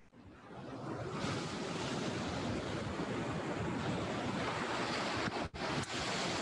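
Steady ocean surf rolls onto a beach in a continuous, full wash of breaking waves, with some wind noise across the microphone and no voices.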